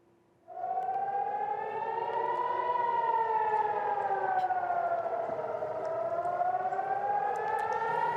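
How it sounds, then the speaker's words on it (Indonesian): Air raid sirens over the city of Nahariya, Israel, wail during an Iranian rocket attack. The loud, rising and falling tone starts half a second in and holds steadily to the end, with no talk. "Sirine pun menggema membuat warga Israel panik."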